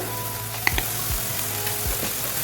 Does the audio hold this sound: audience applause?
no